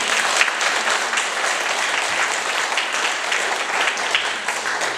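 Congregation applauding in a church service, a thick, even wash of many hands clapping together throughout, close and steady with no break.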